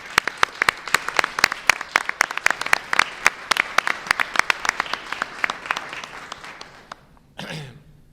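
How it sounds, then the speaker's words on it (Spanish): An indoor audience at a painting event gives a short round of applause: distinct, scattered claps close by that thin out and stop, followed by a brief cough or throat clearing. "pido para él un pequeño aplauso"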